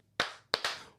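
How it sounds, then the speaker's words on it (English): Hand claps from a small podcast group, crisp and close. One clap lands first, then a quick pair follows, with no voices. "So let's give two claps and Ric Flair for Muhammad."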